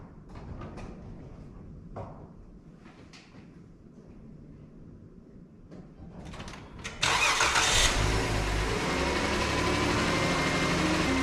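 An L96 V8 in a Chevrolet S-15 truck cranks and fires. Faint clicks and knocks come first, then a sudden loud catch settles into a steady, close idle rumble that continues to the end without talk.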